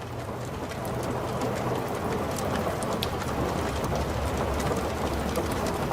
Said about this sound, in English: I hope you enjoy these custom rain sounds that I created and mixed myself